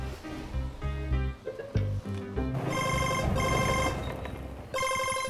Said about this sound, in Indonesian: Aduh, telepon lagi.